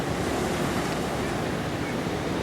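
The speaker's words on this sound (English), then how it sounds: "Listen to the sounds of the ocean." Ocean waves wash onto a beach in Ghana as a steady, loud roar of surf with wind noise, continuous and without pauses.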